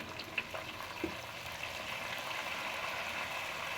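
Meat frying with onions in a pot for pulao gives a soft, steady sizzle, faint and continuous, with a couple of light utensil knocks early on and no talk.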